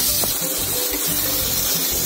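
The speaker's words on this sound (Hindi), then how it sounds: "टमाटर को भूनते हुए" Tomatoes and spices frying in a pan for a stuffed pointed gourd dish, giving a steady, close sizzling hiss that runs unbroken through the clip, with faint stirring bumps underneath and no talk.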